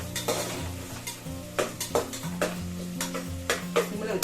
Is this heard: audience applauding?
no